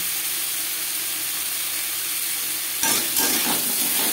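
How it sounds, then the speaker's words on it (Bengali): Potatoes tossed with salt and turmeric in a hot pan, a steady oil sizzle with a few scraping stirs near the end, close and fairly loud. "লবণ হলুদ আলুর সাথে বেশ ভালো করে মিক্স করে দেবো।"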